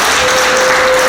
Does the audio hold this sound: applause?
yes